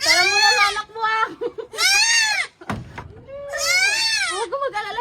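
A goat bleats loudly and close up in three long, wavering cries with brief gaps, sounding almost like a crying child.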